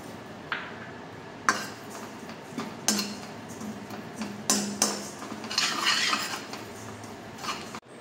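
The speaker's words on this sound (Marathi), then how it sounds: "यानंतर आपण यामध्ये थोडे तीळ व्यवस्थित भाजून घेणार आहोत।" Peanuts and sesame seeds dry roasting in a pan, a spatula scraping and clinking against the metal in irregular knocks and rattles, fairly close, with no talking.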